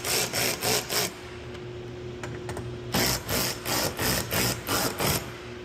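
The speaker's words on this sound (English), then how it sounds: "come back through and tighten up the rest of the bolts" Bolts being tightened on splash guards of a 2023+ Ford Raptor R, a close ratcheting tool clicking in rhythmic bursts of several strokes, a pause, then another run of strokes.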